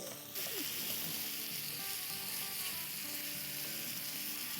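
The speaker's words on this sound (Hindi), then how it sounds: "देखिए 1 आध मिनट से हम इसे भून रहे थे।" Spiced chicken frying on a tawa gives a continuous close sizzle and crackle, with faint scraping of stirring and no talk.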